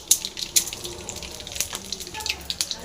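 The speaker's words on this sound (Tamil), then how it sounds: "அது கடுகு பொறிஞ்சிருச்சுங்க" Mustard seeds splutter in hot oil in a home kitchen pan, giving a scatter of sharp, brief pops and crackles over a low sizzle, fairly close and moderately loud.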